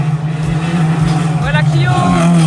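A Citroën Saxo rally car at the Rallye du Quercy 2025 drones past loudly with a steady engine note and a rising sweep, while spectators talk over it.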